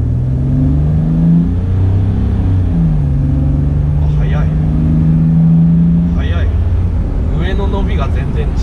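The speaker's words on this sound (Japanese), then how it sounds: "ちょっとじゃあ、加速させてみましょう。" A boosted diesel turbo Toyota Land Cruiser 80 accelerating, its engine droning loudly and climbing in pitch through the gears from inside the cabin, while people talk over it.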